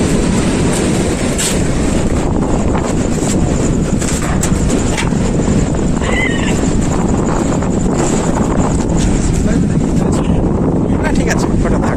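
Strong sea breeze at Mandarmani beach roars steadily into the microphone, a dense continuous wind rush with buffeting gusts, and voices are faintly present beneath it.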